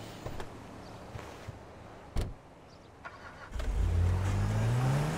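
Car engine in Grand Theft Auto V, mostly a quiet background hum at first, then a louder engine rising and revving strongly toward the end of the drive.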